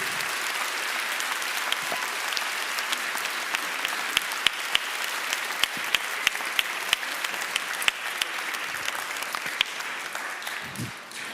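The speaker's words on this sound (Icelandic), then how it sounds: "Eigum ekki að gefa þessum frábæru krökkum gott klapp." A church congregation at a confirmation mass applauds the confirmation children, a long, even roll of many hands clapping with a few sharper individual claps standing out before it fades at the end.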